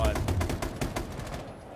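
Video game gunfire rattles out in a rapid automatic burst of evenly spaced, loud, punchy shots, with voices faintly present underneath.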